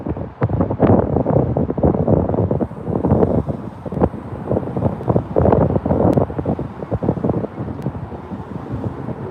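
Strong wind buffets the microphone in continuous gusty rumbles, with occasional sharp rattles and knocks from a fence, no voices.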